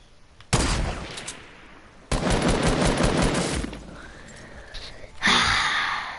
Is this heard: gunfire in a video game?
yes